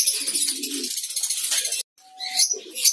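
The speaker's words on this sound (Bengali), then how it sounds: "বাচ্চা পাখিগুলো দেখেন কথাটা অ্যাক্টিভ, এই গরমের মাঝে অনেক সুন্দর চিলাচিলি করতেছে" Lovebird chicks in a breeding colony chirp and chatter busily, a dense, close twittering that breaks off briefly, then resumes with higher peeps.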